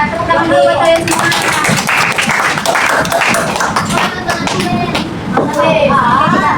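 A classroom of children clapping their hands together in a burst of scattered applause, loud and close, with voices chattering over and between the claps.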